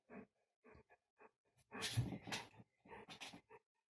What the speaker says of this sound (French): Coucou mon chien.